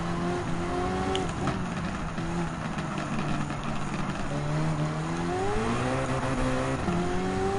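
Race car engine in Gran Turismo 7 during a Halloween weekly challenge, revving loudly and steadily with pitch climbing and dropping through gear changes, close and continuous, no talking.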